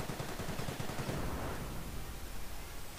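Soldiers firing from a building in Company of Heroes: Opposing Fronts, rapid bursts of rifle and machine-gun fire crackling loudly over a dense battle din, then thinning out.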